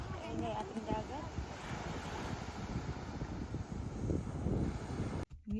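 Wind blows hard at the seaside on a bay, a steady roaring buffet against the microphone that drowns out most other sound.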